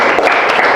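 Classroom applause for a student: a short, dense burst of close clapping from a group of pupils, loud and continuous without pause.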